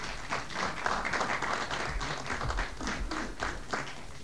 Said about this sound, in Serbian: Ajde jedan mali aplauz da ih nagradimo.